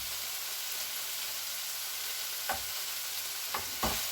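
Chicken meat for tacos fries in a pan, a faint, even sizzle throughout broken by three sharp scraping stirs of a utensil near the end.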